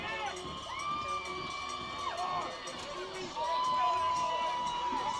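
An Avon Braves cheering section, the Green Gang, roars at a high school football semifinal, with crowd cheers, shouts and whoops, distant and steady, while a commentator talks over them.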